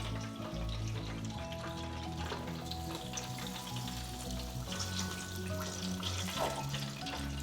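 Chicken fries in a Farberware 4L deep fryer, a steady crackling sizzle with scattered pops, close and continuous, with no speech.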